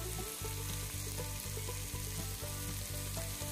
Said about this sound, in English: Now stir fry all the ingredients till the tomatoes are nice and mushy and soft